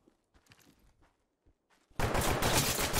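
Gunfire in the tactical shooter Ready or Not, quiet footsteps and faint shuffling first, then a sudden loud sustained burst of rapid automatic shots that continues to the end.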